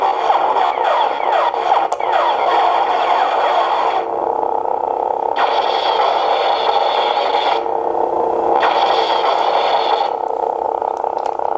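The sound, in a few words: CSJ Props lightsaber igniting with Igniter Mini sound board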